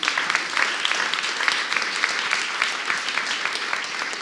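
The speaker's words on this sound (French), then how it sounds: "Je vous propose d'applaudir encore" Dense, steady audience applause at a health innovation award ceremony, many hands clapping together in a continuous even roar that fills the room with no pauses.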